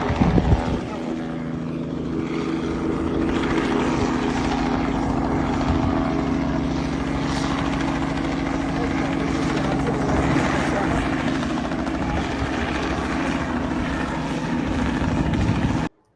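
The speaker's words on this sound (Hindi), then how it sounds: "ये हेलीकॉप्टर उड़ रहा है" A helicopter flying overhead, a loud steady rotor drone with a low humming engine tone that holds for the whole stretch, close and constant, with faint voices underneath.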